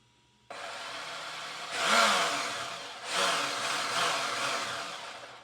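A Redcat Vigilante 1/5-scale 8S electric RC car revving indoors on throttle, with a sudden whirring whine that surges twice, rising and falling, loud and close, with no voices.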